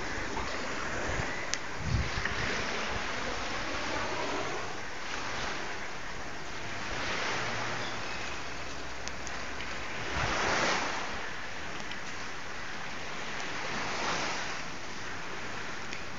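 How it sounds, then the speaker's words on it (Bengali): Sea waves roll and break near a seaside mosque, a continuous rushing surf with a couple of louder swells, mixed with steady wind buffeting the microphone. "দেখেন সমুদ্রে কত সুন্দর ঢেউ আসছে।"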